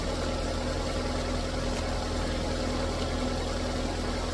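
A Perodua Myvi engine runs steadily after starting, following a blown 15A EFI fuse repair, with a constant low hum and faint vibration throughout and no voices.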